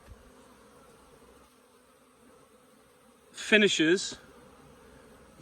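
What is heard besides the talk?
honey bees buzzing at hive entrance, ivy flow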